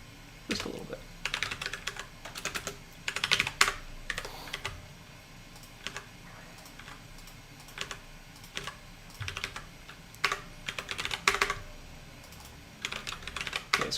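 Bursts of quick typing on a computer keyboard, close and fairly crisp, with pauses between runs of keystrokes and a faint background hum.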